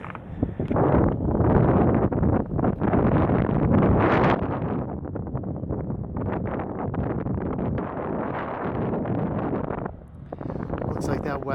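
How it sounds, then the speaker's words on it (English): Strong wind blusters across an industrial roof, a loud, steady roaring gust that eases slightly partway through and dips briefly near the end, with a person talking over it. "It's just with the wind. Oh my God, it's killing me."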